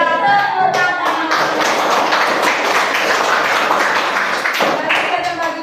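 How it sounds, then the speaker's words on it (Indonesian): Children in an Indonesian classroom clap their hands together, a dense run of quick overlapping claps that carries on steadily for several seconds, with voices of the class mixed in around the clapping. "Ya, tepuk tangan."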